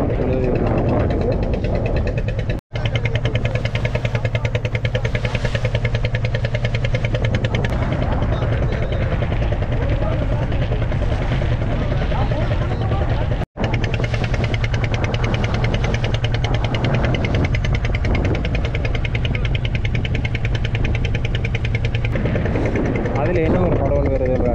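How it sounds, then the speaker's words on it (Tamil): A boat engine drones steadily and loudly while the boat travels slowly across the sea to an island, a continuous close hum broken by two brief cuts, with a voice talking over it. "போட் வந்து மெதுவாக தான் போகுது"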